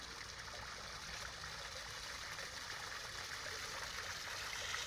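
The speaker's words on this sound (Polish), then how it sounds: "Fontanna wygląda w ten sposób. I zaraz pójdzie do góry strumień." A pond fountain's water stream sprays and splashes steadily at night, a soft continuous hiss and trickle heard from nearby at low volume, with no voices.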